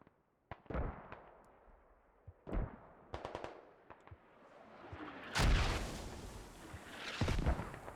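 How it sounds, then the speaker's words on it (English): Mortar shells striking in the Squad video game during a tournament match, a series of sharp distant impacts and crackling blasts spaced irregularly, ending with two louder, heavier explosions close together. "Mortars once again hitting right on point, right where they need to hit."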